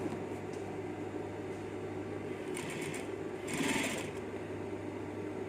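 A sewing machine runs steadily, stitching the seam of a hazmat protective suit (APD); the close, continuous motor whir holds throughout with brief rises in speed and no talking.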